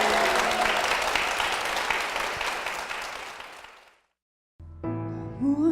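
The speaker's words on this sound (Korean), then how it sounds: "큰 박수 부탁드립니다" A church congregation applauding during a service, dense clapping that gradually fades out, followed by a brief silence and then music with a singing voice.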